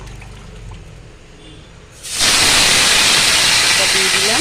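Banana stem hits hot oil already tempered with dried red chillies and sets off an abrupt, loud, sustained sizzle after a quiet moment. A short spoken phrase comes just before.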